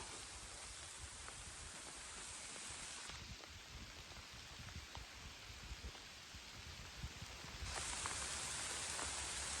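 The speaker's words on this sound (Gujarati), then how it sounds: "જો આ તો વરસાદ આવવાનું ચાલુ થઈ ગયું છે" Soft, steady rain falls in a continuous hiss, faint and even, with occasional drops pattering and a slight swell toward the end.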